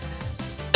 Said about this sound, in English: I am going to try and mute a lot of my coughs, but sometimes they'll just slip out.